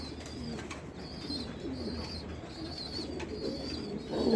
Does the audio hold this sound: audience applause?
no